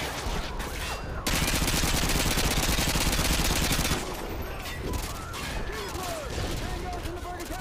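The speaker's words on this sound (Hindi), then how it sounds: "अंधा गोली चलाएंगे भाई, अंधा गोली।" Rapid automatic gunfire in Call of Duty Modern Warfare 2, a dense sustained burst of loud rattling shots after scattered earlier fire, with a player's voice talking over it.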